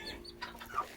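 A hen on a small chicken farm clucks softly, giving a few faint, short calls across about a second. No voices are heard.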